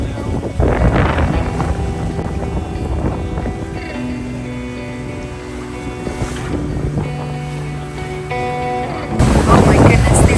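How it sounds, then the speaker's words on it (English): A sailing boat rides big ocean waves off the US Virgin Islands: a steady rush of wind and water with surging swells and buffeting microphone wind, growing louder toward the end. "Oh my goodness, these waves are pretty big."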